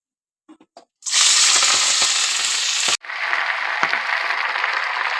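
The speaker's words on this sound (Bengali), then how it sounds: "এখন আমি কেটে রেখেছি পুঁইশাক আর আলু দিয়ে দেবো।" Chopped malabar spinach and potato drop into hot oil in a pan, bursting into a loud, steady sizzle after a few faint clinks, with a brief break before the frying roars on.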